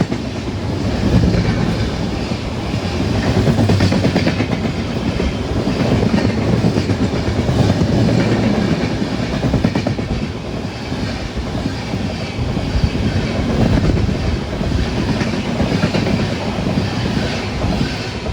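Tirunelveli Jamnagar Express hauled by an electric locomotive from the Vadodara shed rumbling past at close range, with a loud, continuous roar and wheel clatter that holds steady throughout.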